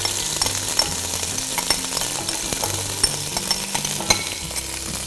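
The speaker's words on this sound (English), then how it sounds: "When your oil is sufficiently hot, add the spice paste in." Spice paste sizzles loudly in hot oil in a pan, a dense continuous frying hiss with intermittent stirring scrapes and small clinks close by.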